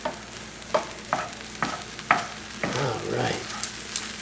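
Kasha with scrambled eggs, caramelized onions, mushroom and garlic is stirred in a pan, a spoon scraping and tapping in several distinct strokes over a soft, steady sizzle, close by, with a brief spoken word at the start.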